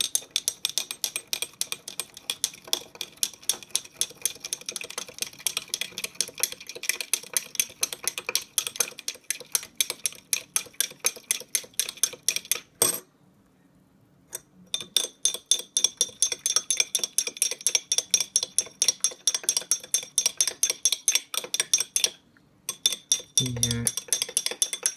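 A spoon stirring tea in a glass for a homemade density experiment, clinking rapidly and rhythmically against the sides, loud and close, with a brief pause midway and near the end.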